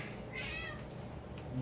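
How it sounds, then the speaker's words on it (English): A domestic cat meows near a stove while a pasta salad is being prepared, one drawn-out rising meow standing alone over a low kitchen hum. "Shush it, cat."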